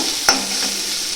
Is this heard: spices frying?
yes